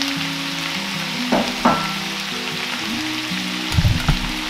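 Baby spinach goes into a hot pan of squash, onion and garlic, bringing a steady close sizzle of frying with a couple of brief stirring scrapes and rustles.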